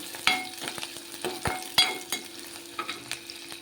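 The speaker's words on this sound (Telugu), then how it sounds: "ఉల్లిగడ్డలు వేసేద్దామండి ఇవి బాగా ఎర్రగా అయిన దాకా వేపుకోవాలండి" Onions fry in a pan for mushroom curry, a faint sizzle under repeated sharp scrapes and clicks of a spoon stirring, close by.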